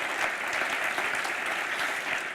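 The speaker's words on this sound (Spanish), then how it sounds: "Y dale un aplauso al Señor." Steady applause from a church congregation, a dense continuous patter of many hands clapping throughout with no break, a faint voice barely emerging beneath it.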